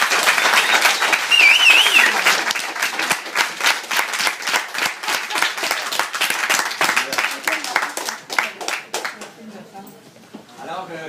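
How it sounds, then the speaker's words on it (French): An audience claps and applauds loudly for several seconds, then the clapping thins out and fades away. "on l'applaudit s'il vous plaît"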